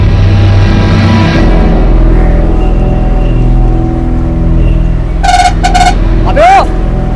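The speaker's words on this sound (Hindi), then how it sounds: "अरे पर हॉर्न मैं बजा रहा हूँ जब" Near the Kalamboli bus stop, a vehicle horn sounds in two quick blasts over a steady traffic rumble while people talk nearby.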